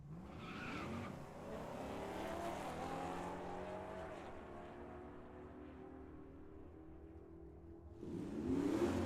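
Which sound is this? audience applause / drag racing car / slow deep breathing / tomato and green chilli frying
drag racing car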